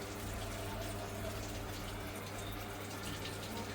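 Water runs steadily into a washing machine filling for a load of clothes, a continuous close rushing flow with a low mechanical hum underneath, unbroken throughout.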